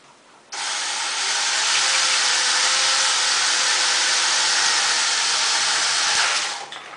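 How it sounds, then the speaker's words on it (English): A power drill bores straight through a hole while making a bobbin, a loud, close, steady whir that starts abruptly, holds for about six seconds, then winds down. "And then just drill straight through."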